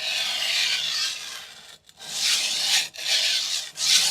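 A knife is drawn in full, pressured strokes across a 400 grit extra hard vitrified diamond whetstone, making a close, gritty scraping hiss in about four long passes separated by brief gaps.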